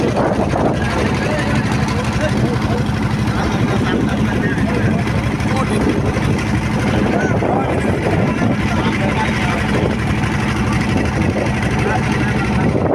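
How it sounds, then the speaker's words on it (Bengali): A river trawler's engine drones steadily and close throughout, a continuous low rumble with water noise, while people talk over it. "ট্রলার ভ্রমণে আছি আমরা"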